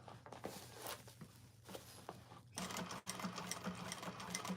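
Sewing machine stitching a bag lining with a hand inside the bag, a steady close mechanical whir and rapid needle tapping, briefly easing near the middle before resuming.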